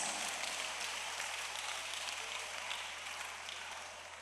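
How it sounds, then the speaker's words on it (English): A church congregation claps for Jesus at a prophet's service, with dense, continuous applause-like clatter that holds steady and fades slightly toward the end. "Somebody clap your hand for Jesus."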